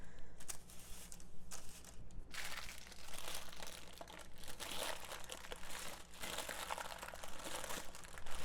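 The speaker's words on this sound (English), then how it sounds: "it's not as weird to roll something with the wax paper as it is the first time you do it" Wax paper crinkles and rustles continuously as a solid bubble bar is rolled in it by hand, a close, steady crackling texture with brief pauses early on and no talking.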